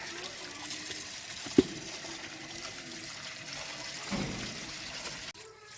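Water from a village hand pump tap runs steadily while turnips and greens are washed, a close continuous splashing trickle with a sharp knock partway, then it cuts off near the end.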